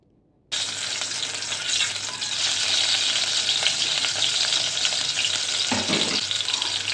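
Onion and garlic fry in hot oil for a masoor dal tempering, a loud, steady, close sizzle that bursts in suddenly after a brief quiet start and holds with slight stirring movement.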